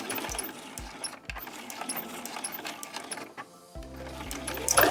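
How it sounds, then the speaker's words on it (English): A sewing machine stitches a seam on a fabric leaf-shaped coaster at 3.2 mm stitch length, with a close, rhythmic mechanical whirring and clatter, short stops for back stitching, and a louder run at the end. "I do want to do a little back stitch at the beginning and the end of this row of stitches."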